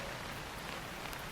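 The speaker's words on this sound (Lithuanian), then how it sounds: "Nes šiauriai lyja." Rain patters steadily on a surface at a campsite shelter during a cycling trip in Sweden, a faint, even hiss of drops that holds unchanged throughout.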